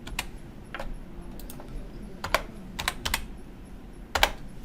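Quick bursts of typing on a computer keyboard while entering HTML table code, light clicking keystrokes in short irregular clusters, close and fairly quiet.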